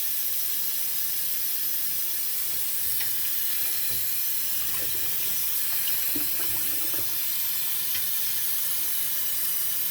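Tap water runs steadily into a sink while Concord wine grapes are washed, a continuous hiss with faint clicks and small splashes, no speech.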